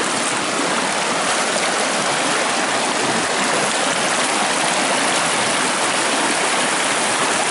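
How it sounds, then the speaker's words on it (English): Creek water rushes steadily over rocks in a wooded stream with fallen trees, a loud, continuous broadband wash close by with no break and no voices. "Let's walk through the creek."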